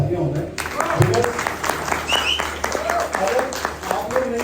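Scattered applause for biking clubs at a superbike meetup, claps mixed with crowd chatter and voices, a busy outdoor-feeling gathering with irregular sharp hand strikes.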